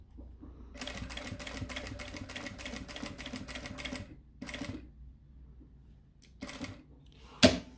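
A sewing machine stitching a seam on a small mini backpack, rapid mechanical chatter in several bursts separated by pauses, close and alone, ending with a sharp knock.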